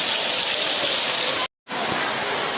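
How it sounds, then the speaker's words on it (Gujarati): Dense, steady roar of heavy rain pouring down, broken by a brief moment of total silence before the downpour resumes. "પાવાગઢમાં વરસાદ જોઈ શકો છો, બહુ વરસાદ આવે છે."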